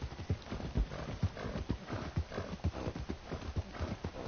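Horse hooves clip-clop steadily at a walking rhythm in the Red Dead Online video game, each hoofbeat distinct and fairly close, with no talk over them.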